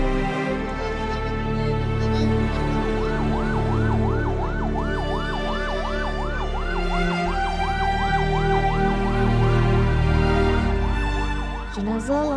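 An ambulance siren wails in a steady, rapidly wavering pattern at a disaster evacuation scene, loud and continuous over rumbling engine and crowd noise.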